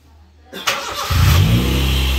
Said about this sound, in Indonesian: knalpotnya seperti yang saya sampaikan tadi dia udah diganti racing mesinnya halus